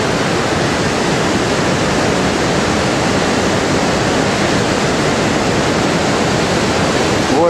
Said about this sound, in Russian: Вот с этого самого водопада.